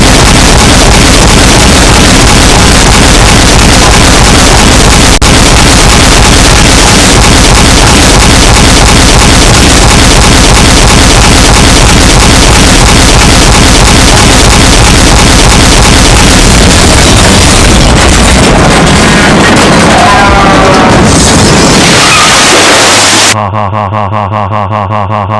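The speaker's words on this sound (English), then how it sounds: "Now to coat China with 50 goo bombs, put into one whole infinite goo bomb." A giant goo bomb sound effect roars for over twenty seconds as one loud, saturated wall of broadband noise. It breaks up and thins out near the end, then cuts to a short quieter tonal tail.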